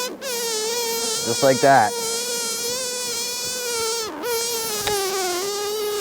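A dense, steady drone of honeybees swarms around an open hive during a frame swap, close and loud throughout, with a brief spoken remark layered over the buzzing.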